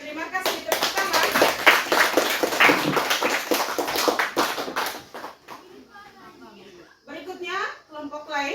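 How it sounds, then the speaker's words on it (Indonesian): Classroom clapping by students, a burst of brisk hand claps for several seconds that fades into a teacher talking. "Tepuk tangan."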